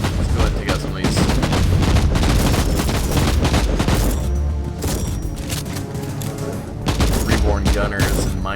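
Shotgun blasts and other gunfire from the video game Inquisitor Martyr form loud, dense, rapid volleys that roll on almost without a break, with a brief lull before the firing picks up again.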